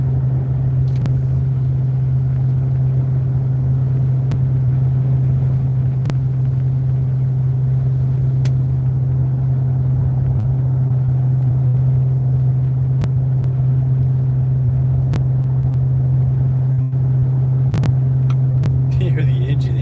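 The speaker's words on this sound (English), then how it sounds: "You hear the engine. The engine's like, ah." Steady low engine rumble from a vehicle towing a house while climbing a mountain road, loud and continuous, with a voice talking over it.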